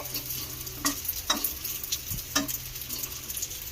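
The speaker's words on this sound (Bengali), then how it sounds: "দু পিঠ উল্টে পাল্টে বেশ সুন্দর করে খাবারটাকে ভেজে নিলাম।" A semolina snack shallow-frying in a pan, a steady close sizzle broken by several sharp spatula scrapes and taps as it is turned.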